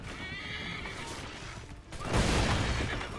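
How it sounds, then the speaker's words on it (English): Explosions erupt during a horse chase in the video game Assassin's Creed 3, a broad crashing roar swelling over continuous galloping and a whinnying horse, dense game audio with no voices heard. "Oh, God. Big explosions."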